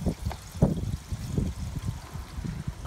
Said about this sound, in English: Oh yeah, now it's flowing like a river.